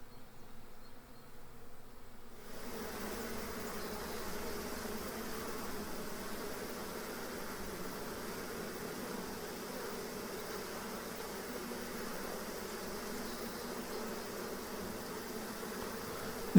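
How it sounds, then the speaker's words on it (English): A honeybee swarm hums steadily at its new hive after a night of storms, a dense, soft, continuous drone of many bees close by with no talking. "all of these honeybees have chosen to move in with the queen bee"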